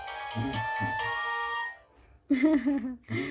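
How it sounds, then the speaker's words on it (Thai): A mobile phone's incoming-call ringtone plays a bright, sustained melodic tone over rhythmic low beats. It drops out briefly, then returns in louder bursts before a final short phrase, with no talk over it. "อันนี้คือผมใช้เสียงนี้ในการโทรเข้าอยู่นะคะ"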